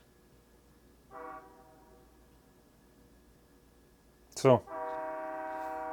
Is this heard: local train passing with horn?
yes